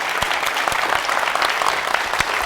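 A studio audience gives a warm round of applause at the close of a Tori Amos interview, with loud, dense, steady clapping sustained throughout.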